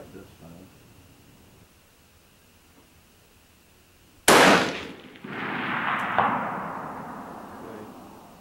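A single sharp, loud gunshot cracks at an outdoor shooting range after a quiet stretch, then a broad rushing echo and wind noise trail off.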